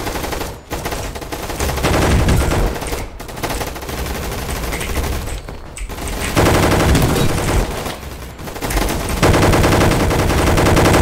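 Loud, near-continuous gunfire in the Roblox game Gunfight Arena, with dense rapid bursts and only brief gaps, heard without talk.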